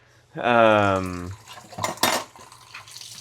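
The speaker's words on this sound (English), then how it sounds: "Let's wash this frickin' pan." A pan being washed in a sink, starting with a sustained squeaky, tonal scrape and followed by several sharp metallic clanks and clatters of cookware at close range, with no one talking.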